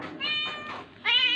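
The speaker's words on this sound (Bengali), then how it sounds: "পুলু কোথা থেকে ম্যাও করছে রে?" A pet cat named Pulu meows from another room, a short run of two or three plaintive calls, the last one louder, heard fairly near.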